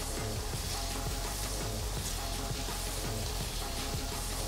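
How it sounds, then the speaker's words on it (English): Zucchini sautés in a hot frying pan for a breakfast frittata with peppers, giving a steady, dense sizzle that stays close and even throughout, with no talking. "I've got this nice saute going. These zucchinis are getting soft."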